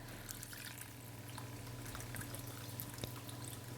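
Dissolved tamarind water is poured into a simmering anchovy fish curry, a soft, quiet trickle and patter of liquid continuing steadily for a few seconds, with no talking.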